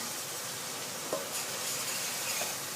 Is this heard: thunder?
no